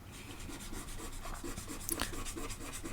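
An eraser rubs across a board in quick back-and-forth scrubbing strokes, close and fairly quiet, with steady soft friction and no talking.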